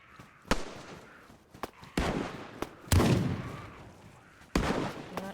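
Heavy gunshots in the game Descent, with about half a dozen sharp booming reports spaced irregularly at close range, each trailing off in a short rumbling echo.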